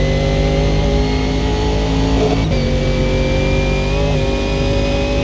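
A supercharged car engine drones loudly and steadily with a high, thin supercharger whine riding over it as the car accelerates, heard from inside the vehicle with one brief dip midway.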